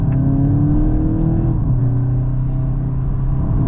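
A 2025 VW Golf GTI Clubsport (MK8.5) engine pulls hard under acceleration on open roads, a loud continuous rumble with rising harmonics that briefly dip at a gearshift, then keep climbing, heard from inside the cabin with no talk.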